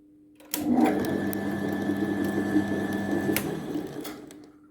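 A Handi Quilter HQ800 longarm quilting machine switches on and runs with a steady mechanical whir and rapid stitching hum for about four seconds, then stops. The sound is close and clear, with no talking.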